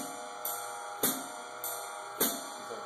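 A basic jazz drum-set groove plays on its own, with sharp, evenly spaced cymbal strikes alternating softer and louder about every half second over a quiet ringing wash.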